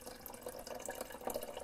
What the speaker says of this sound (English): Let me go and get some cool water to do that with. And here it is. Let's just pour that in there,